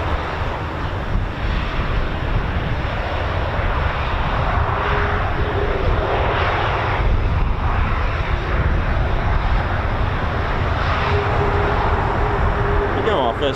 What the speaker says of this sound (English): First departure of the day at RAF Mildenhall